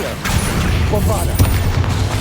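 A Bombarda spell blast in Hogwarts Legacy, the video game, lands as a few sharp booming hits over a dense, rumbling game mix, close and fairly loud.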